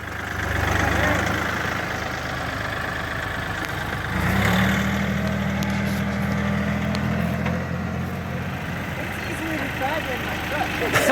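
A Kioti CK3510 tractor's diesel engine runs at a steady, low, close rumble, its pitch and load shifting partway through as a gear is engaged, with people talking over it.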